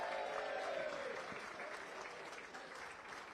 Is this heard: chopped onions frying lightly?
no